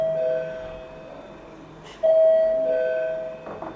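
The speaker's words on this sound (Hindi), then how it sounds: "अरे यार ये घंटी बंद करवाया" An electric bell rings as a steady, loud, tonal buzz that stops briefly and then sounds again. It plays alone indoors behind the hum of a room.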